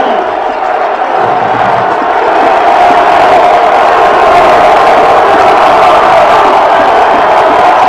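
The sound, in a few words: football crowd cheering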